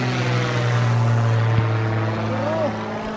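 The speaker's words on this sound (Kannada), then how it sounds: "ಪ್ರೊಫೈಲರ್ ಏರೋಪ್ಲೇನ್ ಜಸ್ಟು ಹೋಯ್ತು." A propeller aeroplane flies overhead above Juhu Beach in Mumbai, a steady low droning hum that holds evenly throughout with a brief higher whine near the end.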